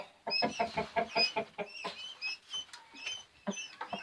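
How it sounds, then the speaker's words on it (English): Chicken clucking and soft rooster calls, a run of quick rhythmic clucks followed by scattered squawks, fairly close with some background bird noise. "And there's Handsome, our rooster, checking everybody out."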